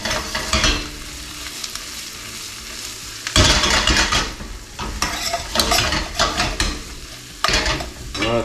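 Garlic sizzling in a frying pan with onions and sausage, a steady close frying hiss broken by louder bursts of stirring and scraping against the pan.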